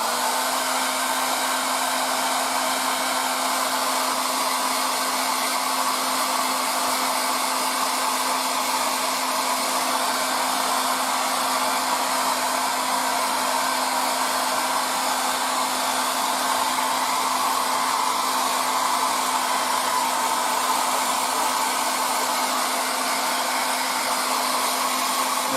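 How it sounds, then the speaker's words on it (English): A hair dryer blows steadily and loudly on fresh paint on a 1:35 Takom Type-69-II model tank, a constant close-up whirring rush that runs unbroken with no talk. "And on this you can use the fantastic air dryer too,"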